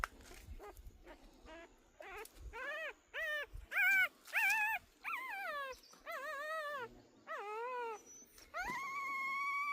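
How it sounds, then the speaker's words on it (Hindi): A dog whimpers and howls in a series of rising, wavering cries, high-pitched and plaintive, separated by short pauses and ending in a longer drawn-out howl, fairly close with faint background noise. "ये कुत्ता है, नहीं कुतिया,"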